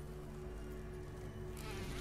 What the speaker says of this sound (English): Oh no, there's bees.